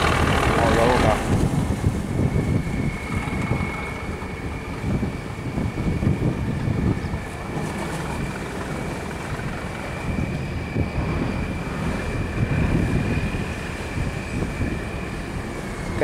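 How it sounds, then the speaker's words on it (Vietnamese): A boat passes on a river near a sluice gate, a steady engine drone blended with constant wind buffeting the microphone, loud and unbroken throughout. "Cái anh ghe anh đang đi qua bên đây rồi đấy các bạn."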